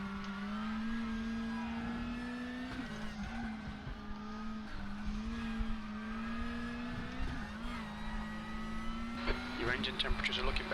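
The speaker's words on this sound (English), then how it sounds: "Just been revving the ring out of it." A Lada race car in the WTCC 13 sim racing game, lapping Moscow Raceway, holds a loud, steady engine drone that dips and rises through gear changes, with tire squeal near the end.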